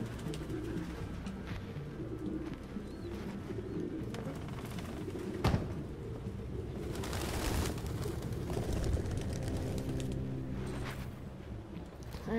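Pigeons in the video game Detroit: Become Human coo in repeated, soft, throaty phrases nearby. A low ambient hum runs beneath them, with one sharp click around the middle.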